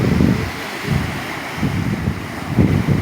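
Wind and surf at Anyer beach in the afternoon make a steady, close rush of breaking waves, with gusty wind buffeting the microphone and no voices heard.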